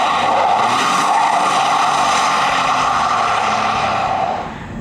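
A basically stock Ford truck with an EcoBoost V6 and an added turbo kit accelerates hard, giving a loud, sustained engine roar that holds close and steady before easing off at the end.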